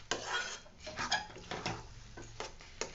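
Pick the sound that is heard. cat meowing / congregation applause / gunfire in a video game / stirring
stirring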